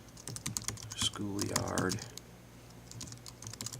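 Rapid bursts of key clicks from a computer keyboard while entering text into a screenwriting application, close and crisp, with a short spoken word cutting in partway through.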